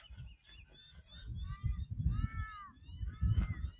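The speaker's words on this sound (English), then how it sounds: "Not that, that's a crow." A crow calling near a disused blast furnace in Lithgow, Australia, a few harsh, drawn-out caws at close range over a low rumbling background.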